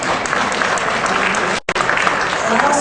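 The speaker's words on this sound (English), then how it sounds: "if you could just give them a big round of applause" Sustained audience applause fills a community event celebrating an ethnic press exhibition in Toronto, a dense steady wash of clapping with a brief drop-out near the middle before resuming at full strength.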